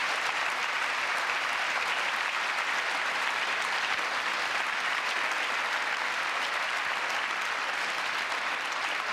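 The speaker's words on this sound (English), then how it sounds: "While they're clapping" Sustained audience applause during the State of the Union address, a dense, steady wash of many hands clapping throughout, fairly loud with no talking.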